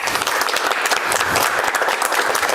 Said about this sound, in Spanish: la diputada Mónica Herrera Villavicencio, para quien pido un fuerte aplauso, por favor